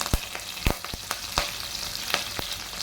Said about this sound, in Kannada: ಸ್ವಲ್ಪ ಜೀರಿಗೆ ಹಾಕೋಣ ಮೆಣಸಿನ್ಕಾಯಿ ಹಾಕೋಣ ಮೆಣಸಿನ್ಕಾಯಿ ಕರಿಬೇವಿನ ಸೊಪ್ಪು ಹಾಕೋಣ